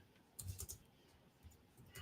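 Quiet typing on a computer keyboard during a hobby card break stream, a few soft scattered clicks in short bursts against a low room hum.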